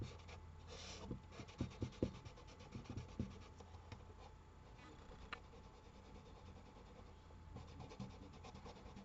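Patina is rubbed onto the edges of a wooden tissue box, giving soft, close, irregular scrubbing strokes, clustered early and then continuing more faintly.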